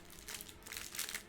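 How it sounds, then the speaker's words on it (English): Plastic bags crinkle and rustle close by while a board game is unboxed, a steady scratchy crackling of handled packaging with no talking. "We have some more plastic bags."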